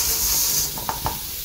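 Vermicelli frying in ghee in a pan gives a brief hissing sizzle that fades after a moment, followed by two soft taps of a utensil.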